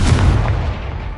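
A Confringo explosive spell goes off in Hogwarts Legacy: one loud, close, booming blast with a fiery burst that fades over about a second, with no voice over it.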